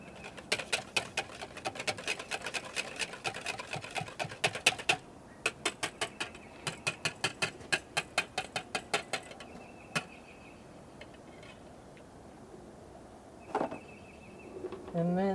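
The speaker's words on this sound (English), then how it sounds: "whisk this together" A whisk clatters quickly against a bowl while ingredients for a cheesy zucchini casserole are mixed, giving a fast, even rhythm of clicks that slows into separate taps and then stops, close and fairly quiet.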